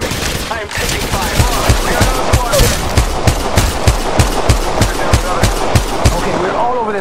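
Rapid automatic gunfire in the mobile shooter Apex Legends Mobile, with steady, evenly spaced shots hammering on for several seconds at a close, loud level.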